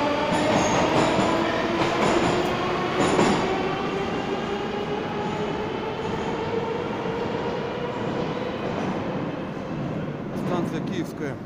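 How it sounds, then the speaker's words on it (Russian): Moscow metro train on the Arbatsko-Pokrovskaya line pulling out of Kiyevskaya station, a loud steady rumble of wheels and motors with rising whine and faint rail clatter, continuous throughout. "Наш поезд отправляется в направлении Смоленской."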